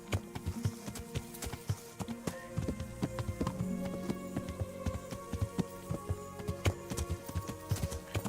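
Horse hooves clip-clop in the medieval role-playing game Kingdom Come Deliverance, a steady, fairly close trotting rhythm of sharp repeated hoof strikes over a low ambient game backdrop, with no voices.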